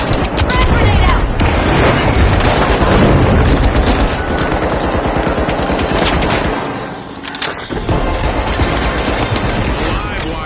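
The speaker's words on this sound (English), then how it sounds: "Frag grenade out." Heavy gunfire and booming frag grenade explosions in the arena shooter The Finals, loud and nearly continuous rapid shots with deep blasts, a brief dip midway, with a voice talking over the action.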